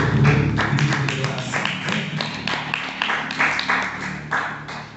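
Church congregation clapping together, a dense stream of hand claps that carries on steadily at moderate loudness, with some voices mixed in underneath.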